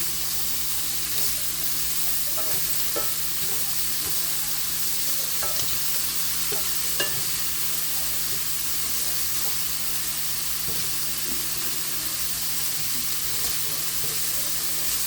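Garlic paprika shrimp and mushrooms frying in a pan, a steady hissing sizzle held close and even for the whole stretch, with faint stirring clicks and no talk.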